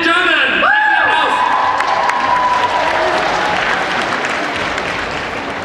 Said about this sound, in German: Also, großen Applaus, wenn sie reinkommen.